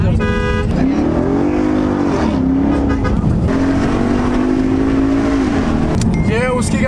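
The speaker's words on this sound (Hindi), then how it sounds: "ये उसकी गाड़ी है, संजय दत्त की है." Car engine droning steadily at close range with a horn toot near the start, as the vehicle drives along under loud talk from people inside.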